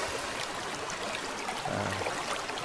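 A side stream flows through old brushy woodland along a river in Sitka bear country, giving a steady broadband wash of running water that stays constant and fairly close throughout, with no talk.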